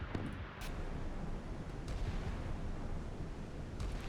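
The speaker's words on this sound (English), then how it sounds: "There's gunfire." Distant naval gunfire in the video game Sea Power sounds as a few muffled booms over a dense, rumbling wash of battle noise that stays steady and moderately faint, with no talking.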